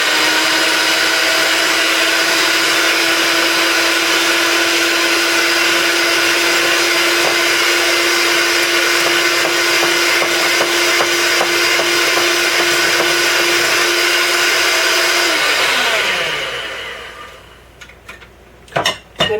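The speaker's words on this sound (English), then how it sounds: "So I'm putting my mixer on high." An electric mixer running on high whips egg whites and vanilla for meringue-style coconut macaroons, a steady loud whir with beaters rattling against the bowl, cutting off near the end.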